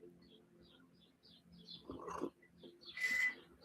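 Birds chirp and tweet outdoors on a morning, scattered short calls at moderate distance, with a louder burst of song near the end; no talking.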